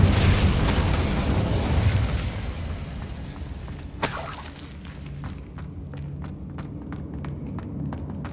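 An Incendio fire spell in Hogwarts Legacy bursts with a loud whooshing blast at the start, then crackles and rumbles, followed by a sharp hit and a series of scattered clicking pops as it fades.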